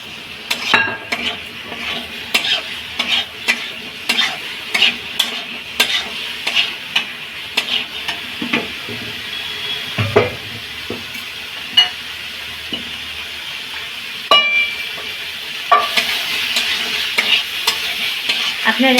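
Soybean chunks stir-fried in a pan, a steady sizzle under repeated, rhythmic scrapes and clinks of a metal spatula against the pan, close and fairly loud, with no voices.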